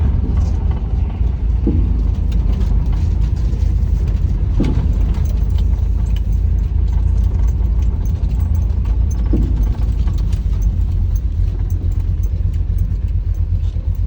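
A 1977 Chevrolet El Camino drives along with a steady low engine rumble and road noise, close and continuous, with a few faint knocks as the automatic transmission shifts.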